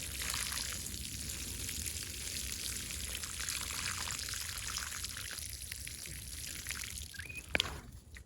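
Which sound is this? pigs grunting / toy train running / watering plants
watering plants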